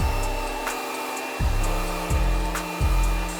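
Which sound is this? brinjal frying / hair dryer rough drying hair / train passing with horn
hair dryer rough drying hair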